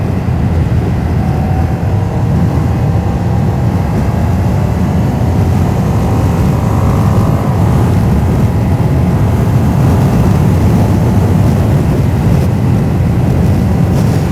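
A Ducati Panigale V2S twin-cylinder motorcycle engine runs while riding, a loud, continuous low rumble with steady wind roar and no breaks.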